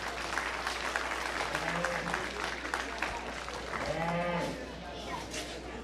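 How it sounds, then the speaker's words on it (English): Applause from the crowd at a county stock show, honoring young exhibitors after a Hereford steer class, steady clapping for several seconds with cattle lowing faintly underneath. "let's give those young people a big round of applause and show them our appreciation"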